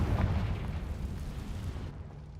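A deep rumbling blast from the Confringo spell in Hogwarts Legacy, a heavy low boom that rolls on and slowly fades, loud and close with no talking.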